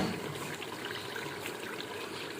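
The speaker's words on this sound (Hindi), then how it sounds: "दाल में पानी मैंने थोड़ा सा ऐड कर दिया" Water poured into daal mash being cooked with meat, a steady close trickling and splashing stream with no pauses, fairly quiet.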